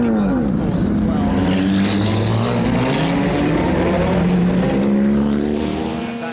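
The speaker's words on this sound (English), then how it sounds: "you're seeing a good number of the little Lotus 15s coming out onto the track right now" Front-engined Lotus 15 race cars pull out onto the Goodwood Revival circuit, their engine notes rising and falling in overlapping sweeping tones, loud and close, with several cars audible at once.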